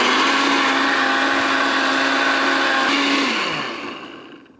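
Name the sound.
blender crushing salsa ingredients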